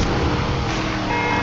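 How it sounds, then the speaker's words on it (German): A Mercedes engine in the racing game Need for Speed Unbound hums loudly and steadily, a continuous close-up drone with a slight rise in pitch over a moment and no other sounds competing. "Der Mercedes ist aber langsam."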